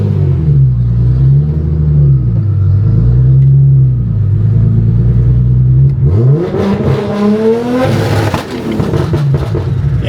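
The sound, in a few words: Nissan R33 GT-R engine revving on dyno, dump valve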